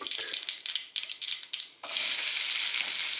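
Crackling, spitting oil pops in short bursts from a tempering, then a loud, steady sizzle takes over as chopped onion is dropped into the hot pan.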